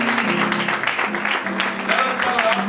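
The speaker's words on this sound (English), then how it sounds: "Let's clap our hand for Jesus." A church congregation at a Sunday service claps their hands for Jesus, producing a dense, steady patter of many hands mixed with voices that sing or speak over it.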